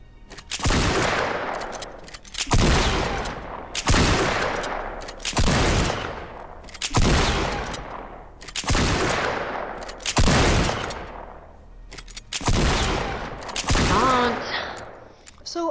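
Two pump shotguns fired in alternation in Fortnite Save the World, eight loud booming blasts spaced roughly two seconds apart, each with a sharp crack and fading tail, close and dominant.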